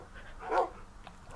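A dog in the Minecraft video game gives a single short bark or yip near the middle, moderately loud over a quiet background, followed by faint brief chirps toward the end.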